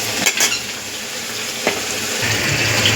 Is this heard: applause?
no